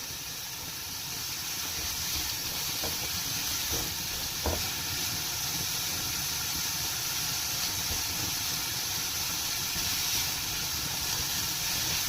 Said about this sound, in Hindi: चिकन का कलर चेंज होना शुरू हो गया, यानी इसकी फ्राइंग अब स्टार्ट हो गई